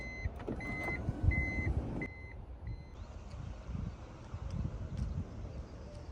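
An older-generation car door at a car auction in Japan closes with a run of steady electronic warning beeps over a low motor hum, then cuts to quieter open-air background noise.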